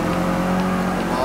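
A Datsun drift car in the racing video game Forza 6 bogs down, its engine giving a low, steady, strained drone with no clear rise in revs, and a voice talking over it.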